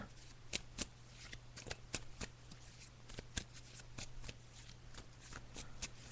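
A deck of tarot cards is shuffled by hand during a psychic reading, with quiet, repeated riffling snaps and soft card-on-card slides in an irregular rhythm, close up and alone.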